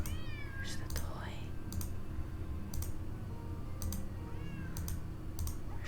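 A cat in the Nancy Drew game Secret of the Old Clock gives a couple of short meows, clear and close, over steady background hum and repeated quiet clicking, with a person's voice at times.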